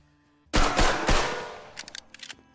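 Video game gunfire from an arctic-zone level: a sudden burst of several rapid, loud shots, followed by a few fainter scattered pops as the sound trails off.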